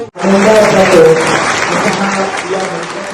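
A crowd applauds at a gathering, with dense sustained clapping that swells and slowly tapers over a few seconds. A voice speaks faintly beneath it.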